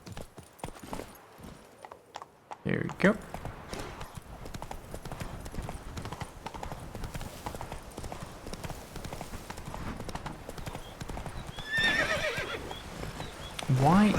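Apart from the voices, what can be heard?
horse galloping in a video game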